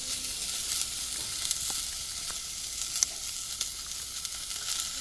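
Fennel seeds sizzling in a stainless steel pan while making spinach sambhar, a soft, steady hiss with a few faint ticks and pops, quiet and close, no voices.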